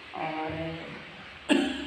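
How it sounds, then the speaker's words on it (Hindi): A short word is spoken, then a single abrupt cough bursts out near the end, close to the microphone. "मेरी खांसी मिटती नहीं है।"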